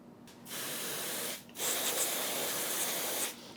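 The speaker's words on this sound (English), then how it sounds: "This is a cold spray," Two close hissing bursts from a cold spray can aimed at chocolate pieces to chill and set them, the first short and the second longer and steady, with nothing else in between.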